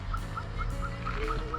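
Birds call at a lake with several short, evenly spaced honking notes, faint and somewhat distant over low background noise.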